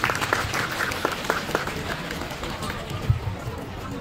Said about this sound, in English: can we please just give her a round of applause